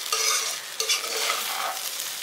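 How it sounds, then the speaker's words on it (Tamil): Garlic pepper rice is stirred in a hot pan, a series of close scraping and shuffling strokes over a light frying sizzle, with no voices. "இந்த மாதிரி போட்டு எல்லாம் சேர்த்து கிளறி கொடுத்துடலாம்."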